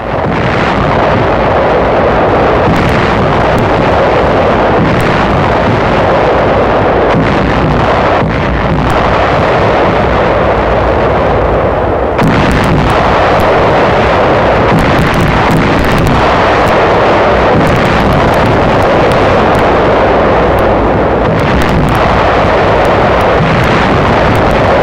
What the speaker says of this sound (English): The attack is preceded by 9 days of intense shelling and bombing by the 5th Fleet.